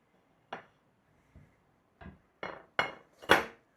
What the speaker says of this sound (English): I'm going to flip it out onto a plate and let you see what it looks like